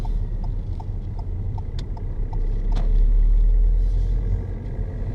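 A car turns left at a junction in second gear on a UK road, steady engine rumble from inside the cabin swelling slightly mid-turn, with soft indicator-like ticking.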